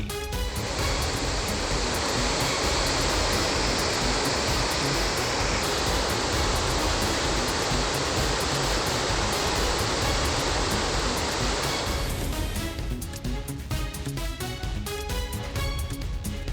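Floodwater roars out of the opened floodgates of the Mettur dam at 110,000 cubic feet per second, a loud, continuous rushing wash, steady throughout and partly overlaid near the end by a tonal broadcast sting.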